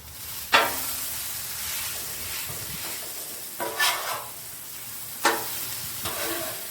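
A metal spatula scrapes and scoops breakfast food across a hot Blackstone griddle, with three sharp scraping strokes over a steady close sizzle and no talking.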